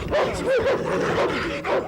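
Police dogs from state canine units bark and yip in a busy, close chorus, overlapping steadily throughout at a training seminar.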